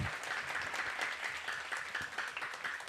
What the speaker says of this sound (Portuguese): Então, uma salva de palmas para vocês